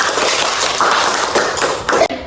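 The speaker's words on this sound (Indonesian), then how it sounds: "Kita berikan tepuk tangan untuk Eti" A classroom of students clapping for a classmate after her biology presentation, a brief close burst of dense hand claps with a few louder bumps before it cuts off.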